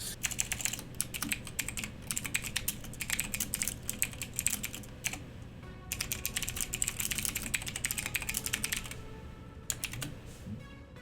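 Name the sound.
furious typing on a mechanical keyboard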